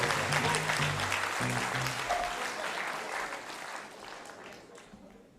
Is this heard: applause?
yes